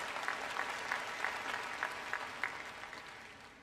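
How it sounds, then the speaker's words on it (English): Applause from a large audience at a university engineering undergraduate commencement, broad and steady with a few sharper individual claps standing out, heard from some distance and slowly fading toward the end. "Yeah, I deserve a clap."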